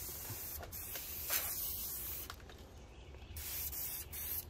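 Aerosol spray paint sprays base and clear coat outdoors, a close, steady hiss broken by short pauses between passes, with wind in the background and no talking.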